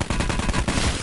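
New SMG firing in Call of Duty style play: a rapid, loud burst of automatic gunfire, shots pulsing in quick succession for about a second.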